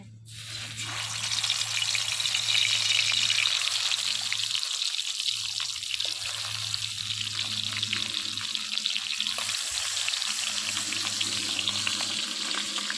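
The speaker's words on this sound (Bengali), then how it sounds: "মাছগুলো এবার আমি ভেজে নেব তেলটা সুন্দরভাবে গরম হয়ে এসেছে" Masala-coated tengra fish fry in hot oil in a pan, a loud, continuous close-up sizzle and spatter that sets in after a quiet start and holds steady over a low electrical hum.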